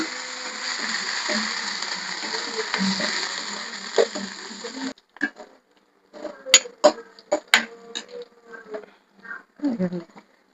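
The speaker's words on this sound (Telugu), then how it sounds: "ఎండుమిరపకాయలు, ఇవి కొంచెం వేగిన తర్వాత లాస్ట్ లో మనం కరివేపాకు వేస్తాం." Dried red chillies fry in oil for a tempering, giving a dense, buzzing sizzle for about five seconds before it breaks into scattered sharp pops and crackles nearby.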